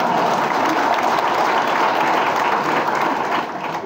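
Audience applause at a political speech by Narayan Rane in Ratnagiri: steady, dense clapping from a large crowd that holds loud throughout and eases slightly at the very end.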